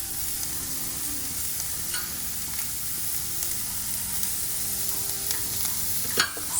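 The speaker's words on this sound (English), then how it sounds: "Saute your garlic and your onion for about 1 or 2 minutes till it's soft" Garlic and onion sautéing in a pan give a steady soft sizzle with a few light stirring clicks near the end, close and alone with no speech.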